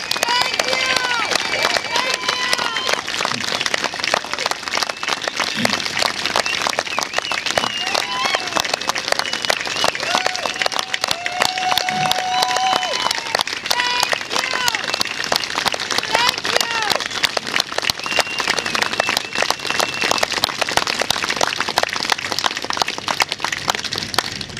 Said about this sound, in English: let us applaud and give you the courtesy of our love and appreciation